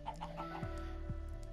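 Minecraft chickens caught inside a farm machine give short clucks over a steady mechanical hum and a few low swooping tones, all fairly close and without talking.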